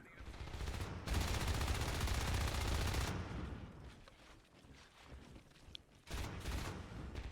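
Rapid gunfire from the video game Natural Selection, coming as a sustained loud burst for about two seconds, then quieter scattered shots, then another dense burst near the end.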